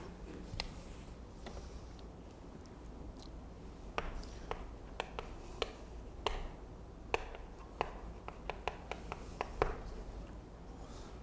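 Chalk or marker writing on a board during a Korean civil law lecture, heard as faint, irregular taps and short strokes in a quiet room with no speech.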